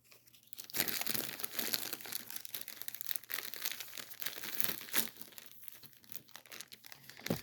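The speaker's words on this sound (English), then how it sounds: "What I've got is an old Pepsi wrapper. Okay, now this is kind of like a Mylar." An old Pepsi wrapper of thin, Mylar-like plastic crinkles continuously up close, a dense crackling rustle with sharper crunchy bursts, loud and alone with no voice over it.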